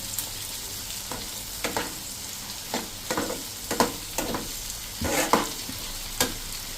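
A salted kadai paneer mixture is stirred in a pan: a soft sizzle runs throughout while a spoon scrapes and knocks against the metal in irregular strokes, close and moderately quiet.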